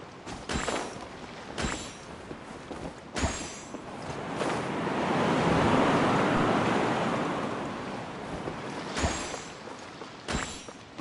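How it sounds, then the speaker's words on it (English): Ocean waves in Genshin Impact wash in and out, a long swell of surf rising and fading in the middle, with a few sharp splashes near the start and end. No voices. "The sound of the ocean waves."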